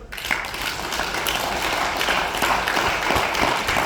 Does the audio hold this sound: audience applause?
yes